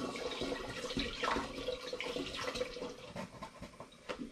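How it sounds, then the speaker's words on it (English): Apple juice is poured into a fermentation vessel while making blueberry hard cider, producing a soft, uneven splashing and gurgling stream of liquid heard close up for a few seconds. "I'm now going to add 1/3 litre of apple juice."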